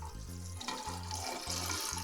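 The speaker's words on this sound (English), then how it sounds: "So I'm going to measure out the water, just for convenience really, using it out the kettle." Water poured from a kettle into a measuring jug in a home kitchen while making pea soup, a close gurgling stream that pulses in short glugs.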